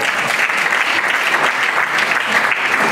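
Audience at a digital-industry awards ceremony, the 2019 Trophées de l'International du Numérique, gives a brief, loud, steady round of applause from close by, with no pauses.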